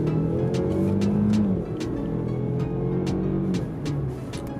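A 2020 Range Rover Velar S P250 SUV accelerating hard in sport mode, a loud, steady engine note from inside the cabin, rising in pitch, dipping with a gear shift near the middle, then climbing again.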